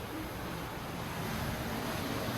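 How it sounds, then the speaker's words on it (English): Ocean waves and gusty wind out at sea aboard a cruise ship, a steady broad wash of surf and buffeting wind noise, faint and continuous with no voices. "It's like sound of the waves, like the audio probably isn't that great because it was windy"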